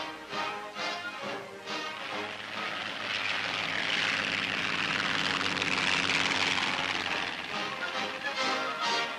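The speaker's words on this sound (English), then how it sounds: "Here's how it's picked up without the towing plane having to land." A propeller towing plane snatches up a glider in flight without landing, its engine a loud, steady drone that swells to a peak mid-way and eases off slightly, with no voices over it.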